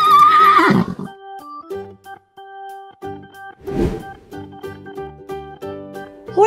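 A horse neighs loudly up close, a shrill whinny followed by several shorter, trembling calls with brief pauses between them.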